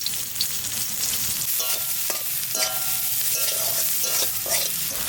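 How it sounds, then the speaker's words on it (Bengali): Onion hits leftover oil in a wok that earlier fried fish, giving a loud, continuous sizzle broken by metallic spatula clanks and scraping as it is stirred. "ওই তেলের মধ্যে পেঁয়াজ দিয়ে দেব।"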